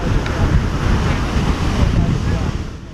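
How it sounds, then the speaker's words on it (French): Waves wash onto an empty beach in a continuous rushing roar, mixed with wind buffeting the microphone and steady from start to finish. "seul le bruit des vagues effleure les oreilles"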